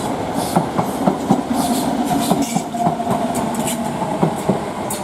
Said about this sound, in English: That'll be the next train shortly to arrive on the platform.